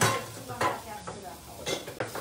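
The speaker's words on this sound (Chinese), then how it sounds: "现在我们加一点叫蒜蓉啊，蒜蓉跟它放进去，爆香这个蒜蓉跟它爆香一下" Minced garlic sizzles in a wok for a spicy hot pot, with a soft frying hiss broken by several scraping stirs and metal clinks of the spatula against the pan.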